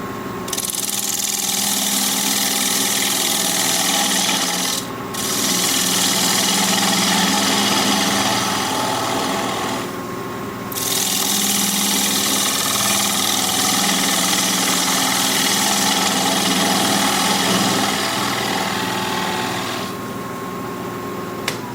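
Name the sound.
wood lathe turning to flatten the bottom of a bowl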